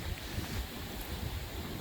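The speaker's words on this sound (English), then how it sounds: "It's so windy." Strong wind blows snow around outside a school, a loud, steady roar of gusts buffeting the microphone, with no voices.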